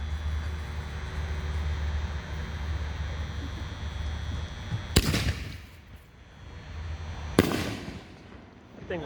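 A Peacock Spider 5-inch canister firework shell thumps up from its launcher and bursts with a sharp, loud crack, followed later by a second loud report, all over steady outdoor background rumble.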